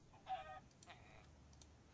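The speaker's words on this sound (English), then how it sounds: "It's a chicken." A Minecraft chicken gives two or three short, clipped clucks at game volume over a low background hum, the clucks coming in quick succession and then fading out.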